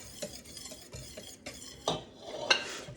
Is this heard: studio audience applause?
no